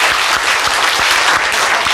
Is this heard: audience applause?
yes